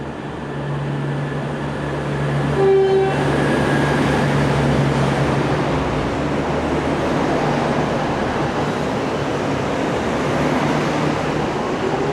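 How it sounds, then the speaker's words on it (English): A loud, steady rush of a V/Line VLocity passenger train passing through Richmond station fills the scene, with a brief tonal horn-like beep early on, no voices. "We'll just have a look at this velocity train."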